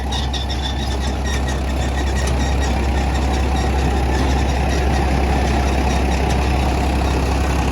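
Farmtrac 60 two-speed 55 HP tractor engine running in first gear with a superseeder, a heavy, steady low diesel drone with rattly overtones, loud and close throughout without talk.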